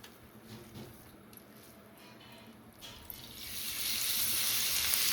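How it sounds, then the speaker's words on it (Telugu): Carrot and beetroot sizzle in hot ghee, a soft steady frying hiss that swells louder and brighter over the last couple of seconds, with faint stirring underneath. "చక్కగా ఇది కూడా నెయ్యిలో చక్కగా దోరగా వేయించుకోవాలి."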